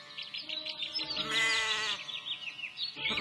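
Cartoon sheep in an animated story bleat in a few wavering, nasal cries, one longer bleat in the middle flanked by shorter ones, close and clear against a quiet background.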